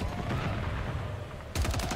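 Automatic weapon fire in Modern Warfare 3 with the SUPERI 46 gun, a quieter distant rattle that turns into a sudden close burst of rapid shots near the end.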